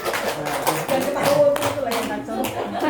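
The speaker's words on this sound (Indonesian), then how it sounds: "Tepuk tangan." A group claps hands together in irregular bursts while people talk over it, the slaps uneven and mixed with chatter and taps.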